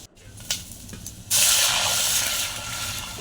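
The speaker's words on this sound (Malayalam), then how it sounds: "നമ്മളെ കഞ്ഞിൻ്റെ വെള്ളം അത് ഒഴിച്ചു കൊടുക്കാൻ പോവുകയാണ്" Rice water poured into a pan of fish curry: after a couple of faint clinks, a loud, steady gushing pour begins and continues to the end.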